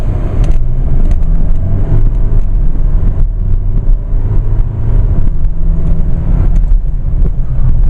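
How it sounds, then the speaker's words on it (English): A 2016 Chevrolet Colorado LT 4x4 diesel pickup engine rumbles steadily and loudly, revving as it accelerates, with a constant low drone and no voices. "I'll give y'all a little quick acceleration here. Let y'all really listen to this thing."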